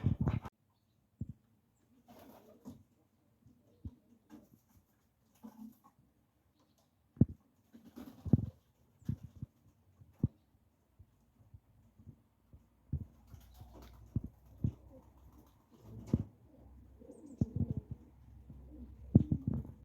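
Racing pigeons coo softly at close range in a loft, with intermittent low cooing calls and scattered wing flutters and bumps, growing busier toward the end.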